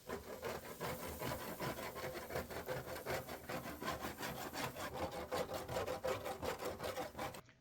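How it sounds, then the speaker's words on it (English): Metal utensil scraping browned turkey fond across a sheet pan during deglazing with white wine, a steady run of rhythmic rasping strokes at close range, sounding alone without talk. "I'll remove some of the fond by scraping it."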